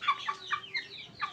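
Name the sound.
roosters and chickens clucking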